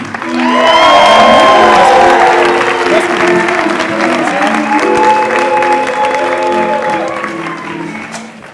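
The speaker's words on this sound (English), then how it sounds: "Big round of applause for Maddie Struski." Audience applause and cheering at a live storytelling event, a loud sustained crowd of clapping with whoops and shouted voices that swells quickly, holds for several seconds, then slowly fades.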